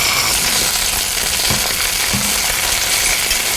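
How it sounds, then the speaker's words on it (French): Chicken livers searing in hot olive oil in a pan give a steady, loud, close sizzle that holds throughout, with a couple of faint knocks partway through and no talk. "le foie, on va le saisir de chaque côté 1 minute pour qu'il soit bien doré et rosé à l'intérieur"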